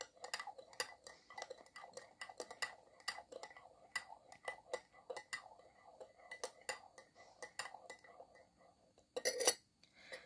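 A spoon clinks and taps rapidly against a glass while stirring a honey and lemon drink, a close run of bright metallic ticks with a busier flurry near the end.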